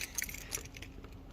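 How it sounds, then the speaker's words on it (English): Keys jangle faintly in a few quick metallic clinks while unlocking a door at a summer camp building, brief and quiet against background noise. "I just dropped my keys"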